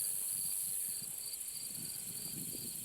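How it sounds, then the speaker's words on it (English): A continuous high-pitched insect drone of katydids and grasshoppers fills a quiet outdoor scene, pulsing faintly but never stopping. "You can hear the katydids and grasshoppers"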